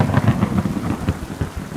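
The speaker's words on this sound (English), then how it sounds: "Jesus, that thunder's loud." Loud thunder rolls and rumbles through a rainstorm in the video game Kingdom Come Deliverance, a continuous low growl with steady rain underneath.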